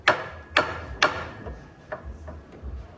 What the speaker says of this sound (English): just tap it a little bit, not too hard, but just enough just to break up some rust and things in there